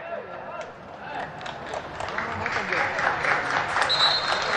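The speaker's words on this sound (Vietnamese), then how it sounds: "Những tràng pháo tay đã được dành cho cầu thủ của câu lạc bộ Viettel." A football stadium crowd at a Vietnamese league match between Hoàng Anh Gia Lai and Viettel applauds the players, a broad steady wash of clapping and crowd noise that slowly swells louder.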